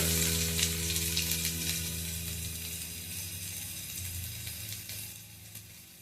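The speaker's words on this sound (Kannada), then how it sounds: "ನಾವು ಜಜ್ಜಿರೋಂಥ ಬೆಳ್ಳುಳ್ಳಿ, ಸ್ವಲ್ಪ ಫ್ರೈ ಮಾಡ್ಕೊತಾ ಇದ್ದೀನಿ" Crushed garlic sizzles and fries in hot oil with mustard seeds for a banana stem stir fry, a steady close crackle with a low hum beneath and no talking.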